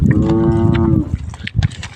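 A single loud, close moo from a head of cattle, sustained for about a second, followed by softer rustling and shuffling noises.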